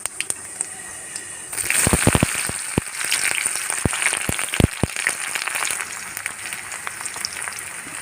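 Cumin seeds, dried chillies and onion go into hot oil for a dhekia fern fry. A steady loud crackling sizzle swells as the onion goes in, and sharp pops and spatters break through it.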